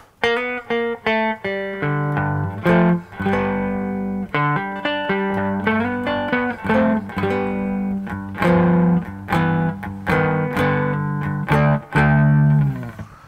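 A twangy cigar box guitar with a light crunchy distortion plays a repeating riff of plucked notes and chords, loud and up close with no voices.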